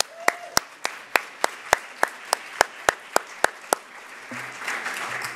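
Sharp, evenly paced handclaps ring out about a dozen times, then give way to a broader wash of audience applause and murmur in an events hall.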